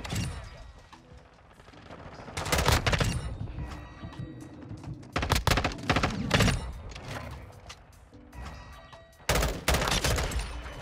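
Bursts of M16 rifle fire in Call of Duty Modern Warfare 2 multiplayer, loud clustered volleys around a few seconds apart over a busy game soundscape.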